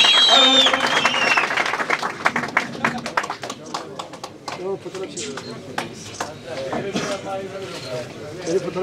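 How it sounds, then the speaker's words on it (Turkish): Audience applause at a billiards tournament event in Mardin for district governors, scattered uneven clapping with sharp individual claps, mixed with talking voices and a brief high tone at the start. "Büyük alkış istiyorum."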